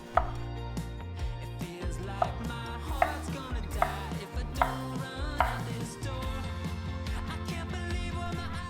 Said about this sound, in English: I also cut up some zucchini.